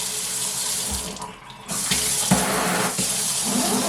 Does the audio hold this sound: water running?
yes